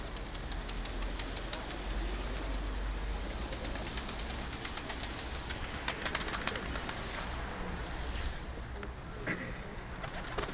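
Tumbler pigeons, Adana local birds, are out in the open with soft cooing and brief fluttery wing sounds. A constant low engine rumble runs underneath, and faint rapid clicks come through now and then.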